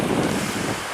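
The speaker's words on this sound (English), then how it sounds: "So there's water running through here" Water runs through a ravine in a campsite gully on the Uncompahgre Plateau in a national forest, a loud continuous rushing wash with no voices.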